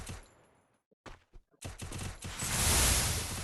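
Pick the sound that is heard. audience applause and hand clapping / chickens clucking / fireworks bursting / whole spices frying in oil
fireworks bursting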